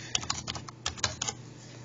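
Quick, uneven taps on a graphing calculator keypad as an equation is entered, a dozen or so light clicky presses in short bursts, close and quiet with nothing else around them.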